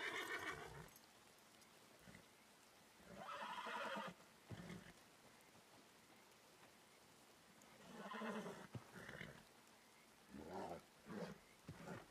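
A young, unbroken horse in a western roleplay video game whinnies and snorts several times in bursts, fairly close, with short gaps of quiet between the calls.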